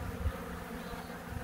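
Korean native honeybees in a southern apiary produce a steady, dense buzzing hum close by, continuous with no pauses.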